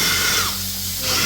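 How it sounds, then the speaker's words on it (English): A power drill spins a white scrub brush against a sofa's upholstery, giving a steady close whirring hum that dips slightly midway through the brief run. "if you're going to utilize a drill and a white brush like this"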